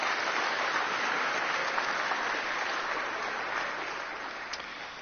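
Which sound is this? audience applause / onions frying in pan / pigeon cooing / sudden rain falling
audience applause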